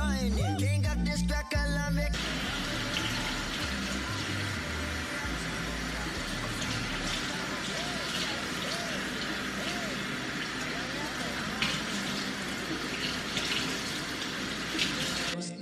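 Water runs steadily from a tap while someone washes natural 4C hair, an even hiss that starts after a brief clatter and continues for the remainder beneath faint background music.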